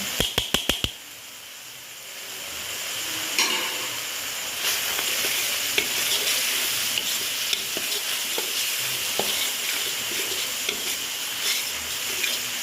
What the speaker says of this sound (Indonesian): Goreng seperti ini Bu,